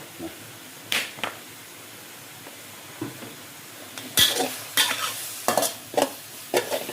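Fish frying in a little oil in a pan while fish larb is being made: a soft, low sizzle with scattered crackles and pops, quiet and close, with no voices.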